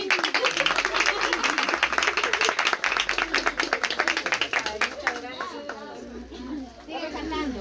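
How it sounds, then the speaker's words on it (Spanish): A crowd at a birthday surprise party in Joyabaj, Quiché claps in a fast, rhythmic burst of applause with voices mixed in, fading toward the end into chatter. "si me dan un aplauso así fuerte a mí."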